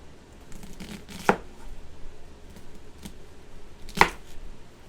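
Knife chopping diced onions on a cutting board: two sharp, distinct chops stand out clearly, one early and one later, over quiet kitchen background with faint scraping in between.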